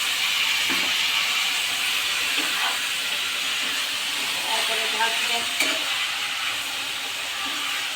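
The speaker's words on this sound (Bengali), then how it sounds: "এভাবে দিতে হয় বেগুন তেলের মধ্যে" Eggplant frying in hot oil, a close, constant loud sizzling hiss with a few faint clinks and stirring knocks scattered through it, and no talking.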